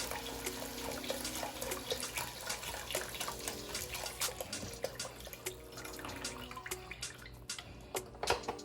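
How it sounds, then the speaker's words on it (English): Chicken broth pouring steadily into a pot of lasagna soup, a continuous splashing trickle with small drips, close and moderately loud. "now let's add in the whole container of the chicken broth"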